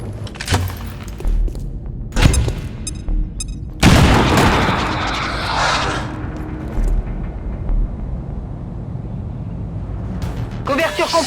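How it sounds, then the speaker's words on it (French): A grenade goes off in XCOM 2: War of the Chosen, a sudden loud blast with a rumbling tail that fades over several seconds. Smaller thuds and game effects come before it, and a brief sharp burst follows near the end. "Je lance une grenade!"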